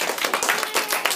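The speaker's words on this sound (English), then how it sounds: "applaudissez-les!" A school French class claps for classmates, a short burst of dense, uneven hand claps at close range with no voices over it.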